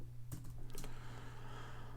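Quiet computer keyboard typing while writing a code comment, a short burst of a few soft key clicks over a low steady hum, no speech.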